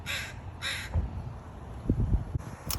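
A crow gives two loud, close caws in quick succession, then a faint start of another, over outdoor background noise with some low rustling.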